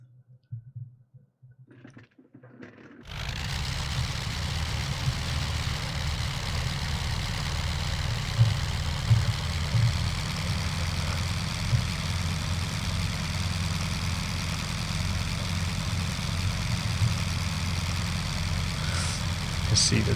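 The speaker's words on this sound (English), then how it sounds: "So we're gonna start the engines again." After a few quiet seconds the radial engine of a Fokker Dr.I triplane in Microsoft Flight Simulator 2020 catches and settles into a steady low, throbbing idle that carries on loud and close to the end.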